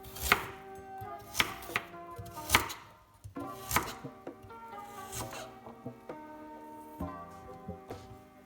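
A knife chops carrots and potatoes into small chunks on a board for Jamaican curry goat, giving sharp, irregular knocks close by, each followed by a brief scrape.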